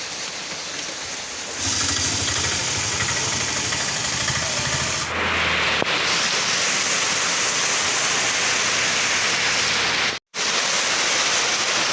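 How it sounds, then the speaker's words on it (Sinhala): Heavy rain pours down steadily outdoors near a covered shelter by a road, a dense continuous hiss that grows louder after a couple of seconds and stays strong throughout. "ඒකට වහිනවා වැඩි"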